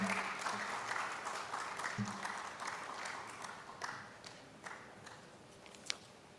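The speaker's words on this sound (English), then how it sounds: "Please keep clapping until he gets up here." Sustained audience applause at an energy sustainability conference keynote, steady and dense across the room with a few sharper claps, continuing without speech as the keynote speaker walks up to the stage.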